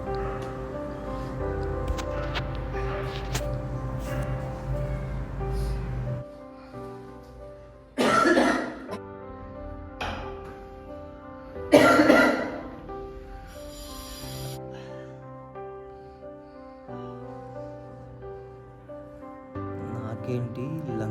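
A person gives two harsh bursts of coughing a few seconds apart over quiet background music, fairly close and loud.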